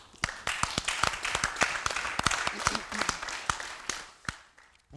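An audience claps for child performers at a children's theatre play, producing steady, fairly even handclaps that thin out toward the end.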